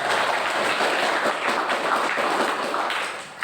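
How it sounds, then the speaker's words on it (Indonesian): A classroom of students bursts into applause, a dense steady clatter of many hands that carries on for several seconds before tapering at the end. "Tepuk tangan untuk kita semua."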